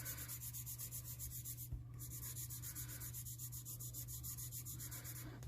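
Graphite pencil shading on paper, soft repeated rubbing strokes in a steady back-and-forth rhythm, close and quiet, with a brief pause partway through before the strokes resume.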